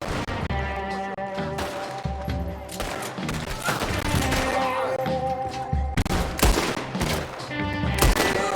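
Rapid bursts of gunfire from Red Dead Redemption 2 crackle through the whole stretch, sharp repeated shots and volleys layered over a busy game soundscape, loud and close, with occasional voices in the mix.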